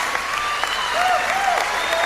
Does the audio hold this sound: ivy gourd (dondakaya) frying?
no